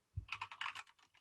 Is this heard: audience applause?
no